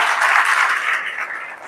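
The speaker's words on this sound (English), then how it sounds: "Come on, clap for ourselves here one more time." An audience at a company event applauds, a dense, steady wash of clapping from many hands that holds through the moment and fades slightly at the end.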